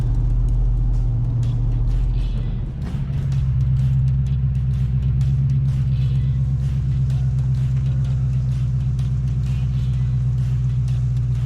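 A Ford BA Fairmont Ghia with a 5.4 V8 cruises on a long road trip, its deep, steady engine and road rumble droning loudly inside the cabin with a brief dip in tone early on.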